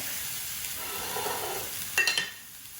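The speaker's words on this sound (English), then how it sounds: "can you hear it? There's a sear there." Tuna seared in a very hot pan gives a steady, close broadband sizzle throughout, with a few brief louder spits and crackles near the end.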